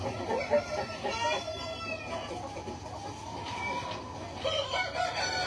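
A rooster crows nearby, with a long drawn-out call rising and falling, joined by clucking from other chickens and a second crow toward the end, fairly close and clear.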